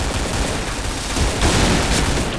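Rapid AK-47 Goddess rifle fire in a shooter game, loud and continuous across the whole moment, with dense overlapping shots and a slight swell near the end.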